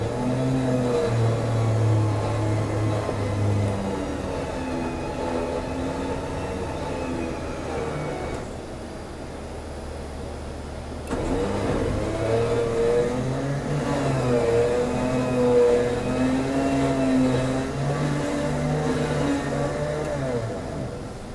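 A 2007-2014 Jeep Wrangler JK engine idling up to 1200 RPM, a steady mid-pitched hum that shifts and drops briefly before settling into a slightly higher, even drone.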